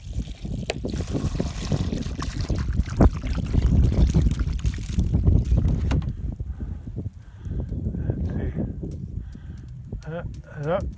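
Water poured into a bent carport gutter, a continuous splashing trickle and gush at close range that fades midway, followed by quieter drips and some voice.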